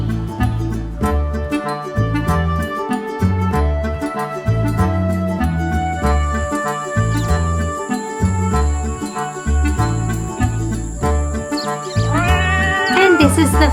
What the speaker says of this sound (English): This is the mother cat.